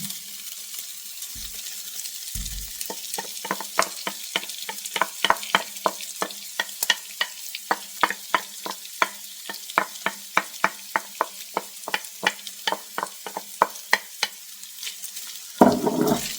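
Chicken and vegetables for fried rice sizzle in a pan while a spatula scrapes and stirs, giving many sharp, fairly regular clicks over a steady frying hiss, close and moderately loud, with no talking.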